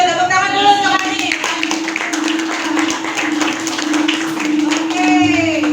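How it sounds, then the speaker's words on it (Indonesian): A group claps along in a rapid, fairly loud burst, with a voice speaking over the clapping and a steady tone underneath. "Tepuk tangan dulu untuk Hanif."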